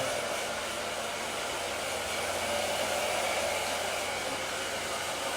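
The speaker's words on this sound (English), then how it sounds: "Keep that blow dryer moving. I've got it on low heat, low air." A hair dryer on low heat and low air blows with a continuous, even whooshing hum, close and unchanging in level, with no voices.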